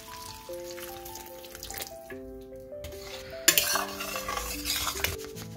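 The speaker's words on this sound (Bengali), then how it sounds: "আমি এবার সয়াবিনগুলো ঢেলে দেবো।" Fried soybeans tipped into a pan and stirred, with scraping and clinking of utensil against metal under steady background music, brief sizzle bursts rising partway through.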